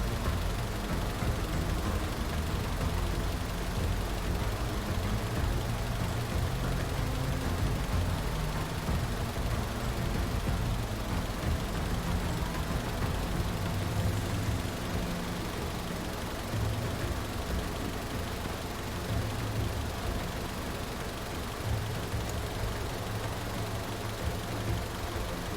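Jet ski engine in the UnderRail: Expedition game, a steady low droning rumble with a faint knocking texture, running evenly and continuously with no talk.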